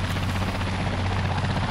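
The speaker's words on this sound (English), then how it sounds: "Oh, that's a helicopter." A helicopter in the video game Dead Island 2 drones loudly and steadily, its deep rotor thrum and engine hum filling the whole moment without a break.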